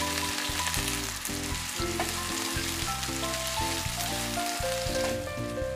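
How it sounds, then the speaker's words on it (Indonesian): Thinly sliced shallots and garlic stir-fried in a hot pan make a loud, continuous sizzle close up, with the scrape and clatter of stirring running through it. "Saya akan tumis dulu bawang merah dan bawang putih yang sudah dirajang atau diiris tipis. Ditumis-tumis, diaduk-aduk sampai mengeluarkan aroma yang harum."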